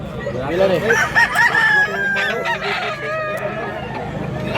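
A large rooster crowing at a Mantalungon, Cebu poultry market, one loud, close, drawn-out crow over steady background chatter and other fowl.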